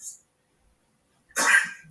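A man in court footage gives a single harsh cough, loud and close, after a near-silent pause.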